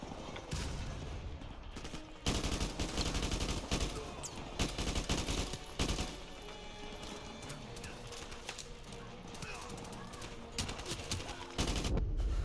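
AK rifle gunfire in Call of Duty Modern Warfare, sharp bursts and repeated shots crackling through a busy battle soundscape, loud and close, with no voices.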